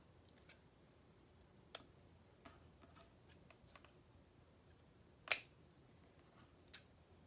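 Scissors snipping craft pieces for firefly legs, a handful of faint, sharp clicks spaced irregularly over quiet background, one louder snip near the end; no talk.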